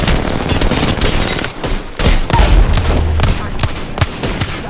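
Gunfire from a team-based video game match, rapid bursts of shots and booms going off continuously and loudly throughout, with the player's voice talking over the fighting.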